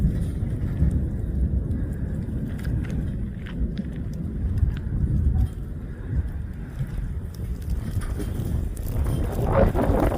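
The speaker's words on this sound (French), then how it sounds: "Ça, c'est du tonnerre à ce temps-ci" A low, rolling rumble of thunder swells and fades in the distance, continuous and heavy throughout, heard in Quebec.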